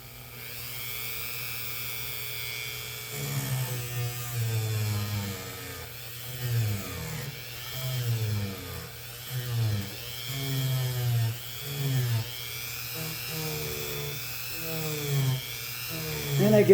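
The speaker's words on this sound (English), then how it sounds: "I'm going to polish them. I'm going to use my Dremel." A Dremel rotary tool runs at high speed polishing the frets of a Guild bass guitar, a steady whine rising and falling in pitch as it presses against the metal, continuous throughout at moderate loudness.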